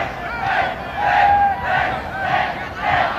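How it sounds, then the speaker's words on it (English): Large rugby league crowd at the Swansea ground roaring and cheering in swelling waves during a 1975 World Cup match between New Zealand and Wales, loud and continuous with no talk over it. "And a good crowd here, been enjoying the fact of the lead changing hands 6 times."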